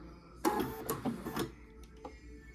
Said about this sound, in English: I just do a few stitches, back stitch, forward stitch,